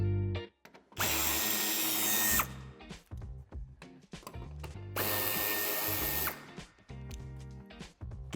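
A power screwdriver removes bumper screws on a 2013-2014 BMW 4 Series Coupé (F32), whirring in two loud bursts of about a second and a half each, with shorter clicks and handling noises between and after them.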